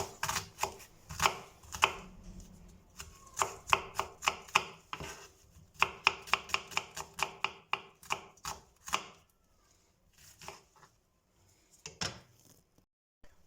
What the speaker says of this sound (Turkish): Bir adet kuru soğanı ikiye böldük. Tekrar böldük. İnce ince doğruyoruz.